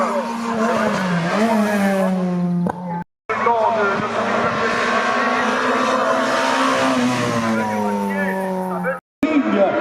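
A former French championship race car climbing at the Saint-Gouéno hill climb, a loud sustained engine drone with rising and falling pitch as it revs through gears, with brief cut-outs and a commentator talking over it.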